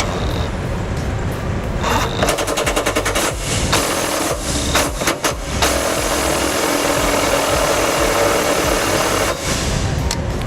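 A 15mm socket drives bolts into the frame of a 2016 Ford Transit while a trailer hitch is installed, giving rapid rattling ratchet or impact bursts over a steady mechanical hum, loud and close.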